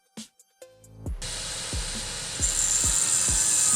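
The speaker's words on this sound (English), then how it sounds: "Cut the plastic rivet welds off to expose the metal cover holding the mechatronic. An ultrasonic knife was used to make things easier" An ultrasonic knife cuts plastic rivet welds on a transmission mechatronic unit, with a few brief handling clicks, then a steady high-pitched buzzing whine punctuated by regular low thumps.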